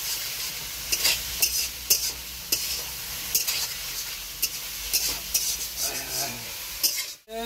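Fish, potato and pointed gourd curry stirred and sautéed in a sizzling pan inside a vehicle, with a steady frying hiss under repeated scraping and clinking strokes of a spatula against the metal, close and fairly quiet.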